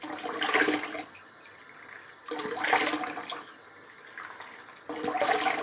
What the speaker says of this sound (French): je suis obligée de vous laisser entendre l'eau couler